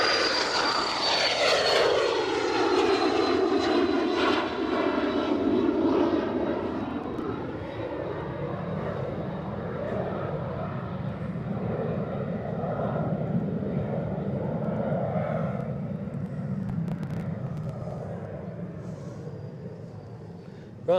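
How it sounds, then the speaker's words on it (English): A Challenger 350 business jet departs Edinburgh Airport with a loud, sustained engine roar. A whining tone sweeps down early on, then the roar settles into a steady rumble that slowly fades as the jet climbs away. "so that is the first of our consecutive BizJet departures"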